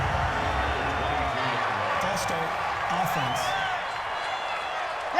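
A stadium crowd at an American football game roars steadily and loudly in the background under a broadcast commentator's continuous talk, a dense wash of cheering and noise.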